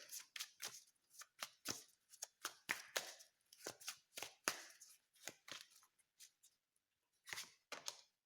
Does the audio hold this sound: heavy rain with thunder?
no